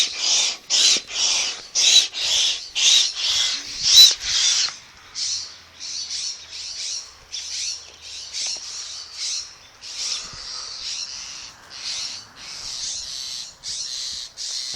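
Birds call and squawk repeatedly in harsh, raspy bursts near a kite, a busy overlapping series of loud cries that continues steadily throughout.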